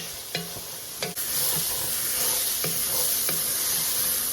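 Smoked sausage and vegetables sizzle and fry steadily in a hot pan, with a few sharp scraping stirs of a utensil early on and a couple more later, loud and close, no talking.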